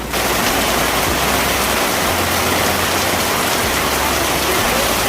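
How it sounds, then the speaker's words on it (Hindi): Heavy monsoon rain pours down in Nainital in a dense, continuous roar, drumming steadily on surfaces close by, with a low rumble underneath and no voices. "इतनी मूसलाधार बारिश लगी हुई है और जूते पूरे भीग चुके हैं"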